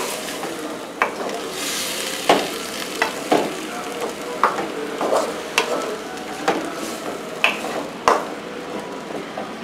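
Sautéed vegetables in a hot pan deglazed with wine, a continuous sizzle broken by repeated sharp scrapes and stirring knocks of a utensil against the pan at an irregular rhythm, close by, no speech.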